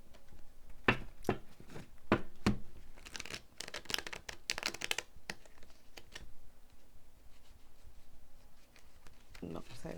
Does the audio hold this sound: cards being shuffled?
yes